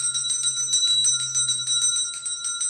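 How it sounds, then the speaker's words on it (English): A small hand bell rings repeatedly during a live tarot reading, steady bright chimes with a sustained shimmering tone, fairly close and alone without talk. "We'll do a little bell."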